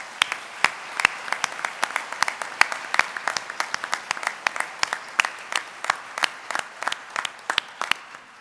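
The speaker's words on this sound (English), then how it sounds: "Let's give this group another round of applause." An audience claps for graduates at a university commencement ceremony, steady applause with many separate sharp hand claps, near and sustained the whole time, with no voices over it.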